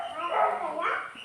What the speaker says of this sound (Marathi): काय कुत्रा भुंकतोय बघा